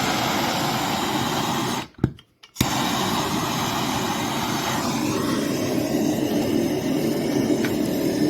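A torch flame roars steadily as it heats the chimney of a GAP2020 rocket stove, a loud close hiss that cuts out briefly and then resumes.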